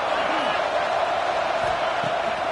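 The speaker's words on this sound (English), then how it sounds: "this crowd is ready." A packed football stadium crowd roars in a steady, dense wash of cheering and whoops, loud and continuous with no break, during a tense third-down moment.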